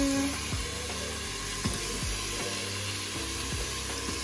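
Onions cook in a Cookeo multicooker while a wooden spatula stirs them, a faint low sizzle underneath with repeated soft scrapes and knocks at a loose, irregular rhythm.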